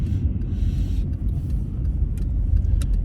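A non-VTEC Honda Civic DX with about 115 horsepower pulls away, its engine giving a steady, loud low rumble that holds throughout, with a few faint clicks higher up.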